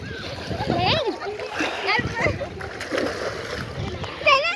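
Water splashing as people bathe in a river at Rajghat, irregular splashes and sloshing close by, mixed with voices talking and calling out.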